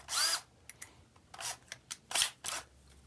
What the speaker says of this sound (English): drill the holes, countersink the holes